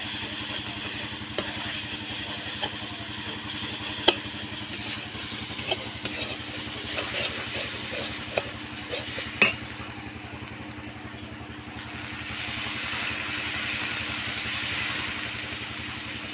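Ginger, garlic and spices frying in a pot for village-style vegetable khichuri, with a steady low sizzle, scattered clinks of stirring and a louder hiss building near the end; no talk.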